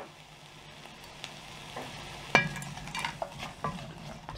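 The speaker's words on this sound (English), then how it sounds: "when your bacon is cooking through, we now just want to add your onions and your peppers and or mushrooms" Bacon frying in a pan as onions, peppers or mushrooms are added, a quiet continuous sizzle with scattered clinks and scrapes of utensils against the pan.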